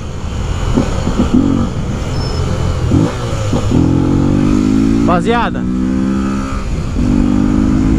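A Honda XRE 300 motorcycle engine, running low on fuel, revs up and settles under nearby talk, with a rising whine midway through.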